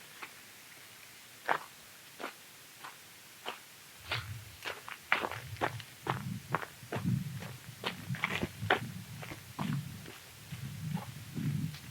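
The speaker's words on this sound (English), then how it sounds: "There's something out there running." Something moving through the woods at night: a series of thuds and crunching steps, sparse and faint at first, then denser and louder, like running footsteps on forest ground.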